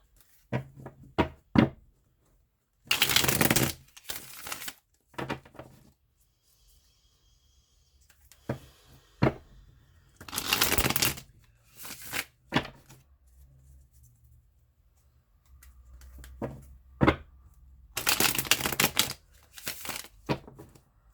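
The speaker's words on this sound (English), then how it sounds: "we will pull some love oracle cards to see what your angels have to say" Love oracle cards being shuffled in bursts of papery riffling and flapping, with quiet gaps and light knocks in between, close and fairly soft.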